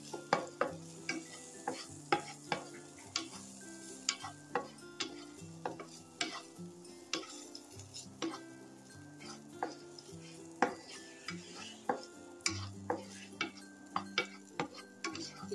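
Raisins roasting in a pan over a low flame, a quiet, regular series of spatula scrapes and light clacks against the pan over a faint sizzle, with no voices.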